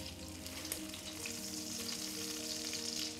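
A duck breast pan-fries in its own rendered fat, producing a close, steady crackling sizzle throughout with a faint low hum underneath.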